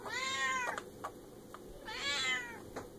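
Two drawn-out, high-pitched Minecraft cat meows with wavering pitch, separated by short clicks, against a low steady background hum.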